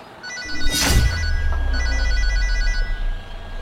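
A phone rings in a home, a repeating electronic ringtone sounding in two clear bursts over a low steady background hum with a brief rustle near the start, no one speaking.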